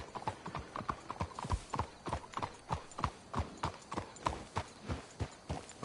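Horse hooves clip-clop steadily in the Red Dead Redemption 2 video game, a brisk, even rhythm of close, crisp hoofbeats that continues throughout at moderate volume.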